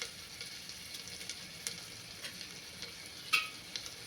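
Garlic and ginger sauté in melted butter, a faint, quiet sizzle dotted with small ticks and pops and one louder crackle near the end.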